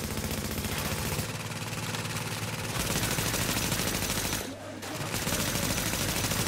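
Sustained automatic gunfire in The Division, a continuous rapid rattle of shots close and loud with a brief pause before resuming.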